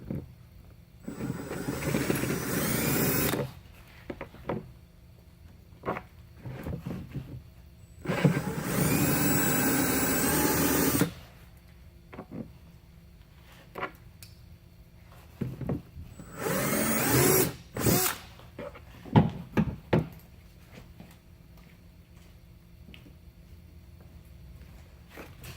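A drill boring a hole in a plastic fuel jug, three separate loud whirring bursts of several seconds each, separated by quieter handling clicks and knocks.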